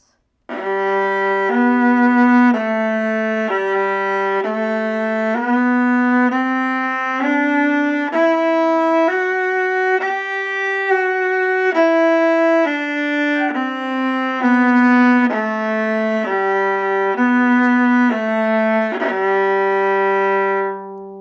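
A bowed string instrument plays a continuous run of longer notes, the bow changes smooth and nearly seamless, with no pauses between notes.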